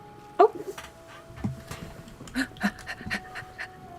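A person imitates a dog panting with quick rhythmic breaths near the microphone, broken up by short bursts of speech and background chatter.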